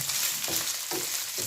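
Onion frying in a pan for a rice pilaf, a steady hiss of sizzling oil with a few soft stirring pulses, close and alone.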